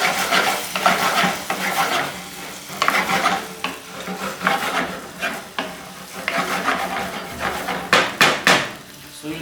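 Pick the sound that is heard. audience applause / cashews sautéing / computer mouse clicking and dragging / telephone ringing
cashews sautéing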